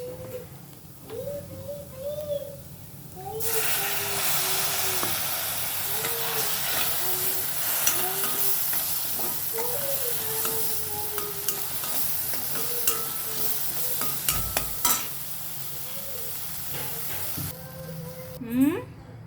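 Water coming to a boil in a cooking pot with bhaji (vegetable curry) simmering, a steady hiss and bubbling that runs for most of the stretch with a faint voice underneath.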